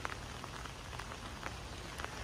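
Steady rain falls in a nature park, a dense continuous hiss with scattered brighter drops pattering on nearby surfaces throughout, no voices present.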